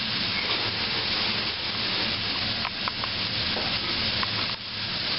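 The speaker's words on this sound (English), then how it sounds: "As you can hear the sizzle, it's going." Halibut sizzles in an oiled pan with a steady, dense crackle and hiss that holds without a break, with no voices over it.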